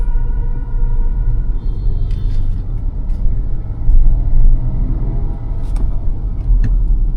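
A car pulls away slowly in first gear with the clutch easing up, a close, steady low engine rumble inside the cabin with small clicks and knocks now and then.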